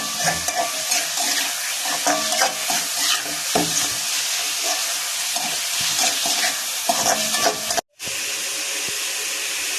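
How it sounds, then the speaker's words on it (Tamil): Onion, tomato, cardamom and fennel fry for a pepper chicken gravy, a loud continuous sizzle with stirring scrapes that cuts out briefly near the end and then resumes. "வெங்காயம், தக்காளி, ஏலக்காய், சோம்பு எல்லாம் போட்டு ஃப்ரை பண்ணியிருக்கேன்."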